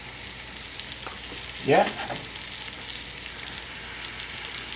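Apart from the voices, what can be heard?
onion frying in a pot for a seafood boil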